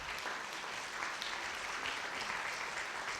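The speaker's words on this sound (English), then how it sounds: "could we have a huge round of applause for our friends at Hamilton High School Transitions team?" An audience in a theatre gives a round of applause to a high school transitions team, a steady, fairly distant wash of many hands clapping that stays even and soft for the whole stretch.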